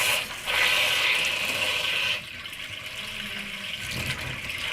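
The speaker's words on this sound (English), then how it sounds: "I'm just filling it up with tap water" Tap water gushes from a hose into the radiator of a 1964 Chevy Impala, a loud steady rush that drops to a softer, lower pour partway through.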